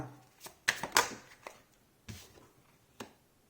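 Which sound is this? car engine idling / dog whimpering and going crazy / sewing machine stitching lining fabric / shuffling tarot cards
shuffling tarot cards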